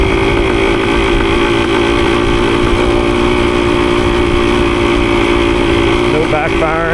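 Rebuilt 1973 Yamaha CT3 motorcycle engine running steadily, a loud continuous close-up idle drone with a faint rise in revs near the end.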